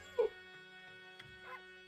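A dog gives a single short bark in Okami, a quick clear yip followed by softer whimpering tones over a quiet tonal music bed.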